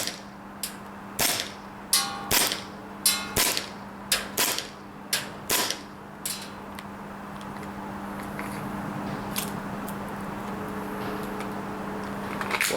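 An Army Armament R609 gas pistol fires a series of sharp, close shots, each followed by a quick metallic clack as rounds hit a target, about a dozen irregular reports over the first six seconds before a steady background hum.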